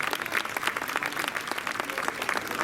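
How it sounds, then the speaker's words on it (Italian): A crowd claps in sustained, even applause, dense and fairly close, with no talking over it. "Direi di fare un grande applauso a loro."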